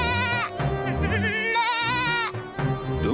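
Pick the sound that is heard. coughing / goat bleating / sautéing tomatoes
goat bleating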